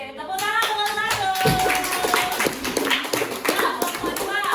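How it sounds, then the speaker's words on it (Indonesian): Children in a classroom clap for the first group, with dense, uneven clapping running under a talking adult and children's voices. "tepuk tangan untuk satu"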